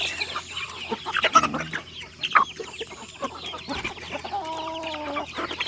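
A flock of chickens, not all native breeds, clucking and murmuring close by while feeding, with overlapping soft calls, occasional louder squawks and scratching sounds in an outdoor yard.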